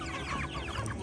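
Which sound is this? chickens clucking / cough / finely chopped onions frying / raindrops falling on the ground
chickens clucking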